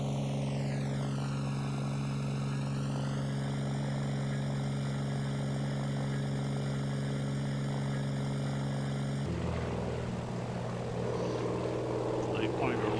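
Steady drone of a propeller engine on a floatplane in flight, loud and continuous throughout with a rising whine early on, then a shift in tone near the end.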